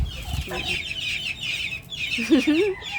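Chickens cluck and murmur nearby in short bursts, with a steady high rustle in the background and faint voices in the distance.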